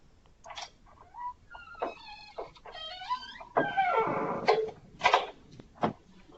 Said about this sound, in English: I hear a door creaking somewhere.